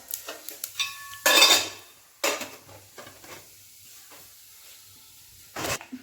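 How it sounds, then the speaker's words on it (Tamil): Mustard, cumin and fenugreek seeds go into hot oil in a pan for a spicy garlic kuzhambu, with metallic clinks of utensils and short bursts of sizzle between quieter moments. "இப்போ எண்ணெய் நல்லா காஞ்சிருச்சு. எண்ணெய் காஞ்சதுக்கப்புறம் கடுகு, சீரகம், வெந்தயம்"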